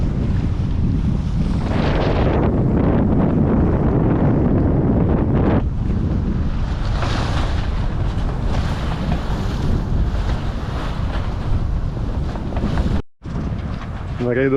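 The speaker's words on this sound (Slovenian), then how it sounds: "imamo tam dobrih 10 vozlov vetra, tako da jadrava" Strong wind roars past the microphone on a sailboat under way at sea near Biak, Indonesia, with about ten knots of breeze, steady and loud throughout, blending with water rushing along the hull.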